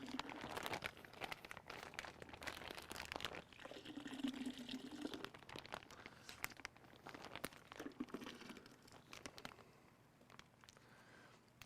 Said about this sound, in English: we're going to try to get all the juice we can from the bag.